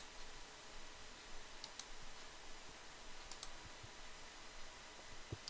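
A computer mouse clicks through buttons in the Eclipse IDE installer, a few faint, quick double clicks spaced apart over a steady background hiss.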